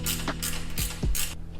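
Close, brisk metallic ratcheting from a 13mm spanner snugging the inner nuts on a FunBikes Viper 125 motorbike's front bull bar, three short bursts of clicks over about a second and a half.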